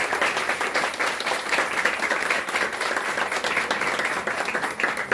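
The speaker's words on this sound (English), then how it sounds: "Applause. Yay." Steady applause from an audience at the opening of Latin America's first witchcraft museum, the Brazilian Museum of Magic and Witchcraft, dense clapping sustained at even loudness throughout, with faint voices mixed in.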